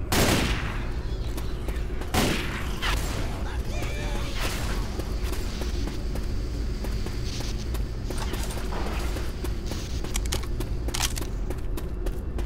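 Left 4 Dead gunfire, including a sniper rifle, crackling in dense, continuous bursts with sharp louder reports standing out, all under constant background game noise and occasional speech.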